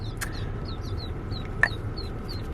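Several tiny ducklings give brief high peeping calls at a steady, scattered pace, fairly close, over a low rumbling vehicle-like background hum with one sharp knock.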